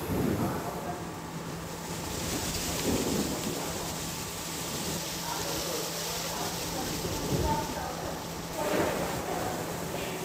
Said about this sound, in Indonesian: hujan deras disertai dengan angin kencang di wilayah Kabupaten Bogor menyebabkan sejumlah pohon di sekitar komplek perkantoran Pemkab Bogor tumbang